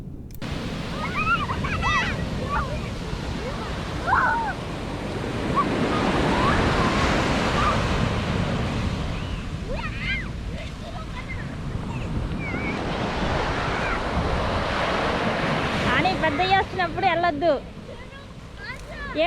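Sea waves at Yeongdeok Beach in South Korea surge and wash ashore in a continuous roar, with wind buffeting the microphone and people talking and calling out over the surf.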